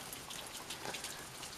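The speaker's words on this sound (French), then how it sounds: "C'est pas une grosse pluie." Light rain falling in a canyon on a hike, a faint steady patter of drops with soft scattered ticks, quiet and continuous with no voices.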